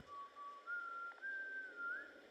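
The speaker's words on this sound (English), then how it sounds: "You hear that whistle right before he kills you." A short, quiet whistled tune of a few sustained notes, rising slightly at the end, heard alone.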